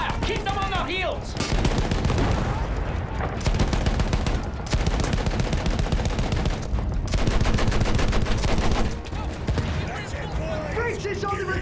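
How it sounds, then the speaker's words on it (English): Rapid sustained bursts of rifle and machine-gun fire rattle through a battle with brief pauses between volleys, dense and close, with shouted voices over and between the shots. "Continue suppressing fire!"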